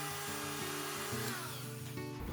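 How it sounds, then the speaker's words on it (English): A Dremel rotary tool whines steadily against a battery electrode, scratching the soldering spot. Its pitch steps up and down over a couple of seconds, close and alone, with no voices. "Use the Dremel to create scratches at the soldering location."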